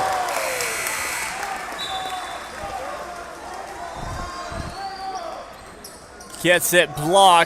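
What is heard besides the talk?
crowd cheering at a high school basketball game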